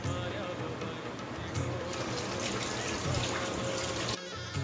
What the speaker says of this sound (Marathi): हे परत स्वच्छ पाण्याने धुवून घेतलं आहे.